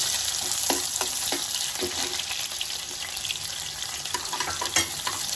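Chopped onion fries in oil with cumin and mustard seeds, a loud, continuous close sizzle with a few crackling spits early on and an even hiss throughout.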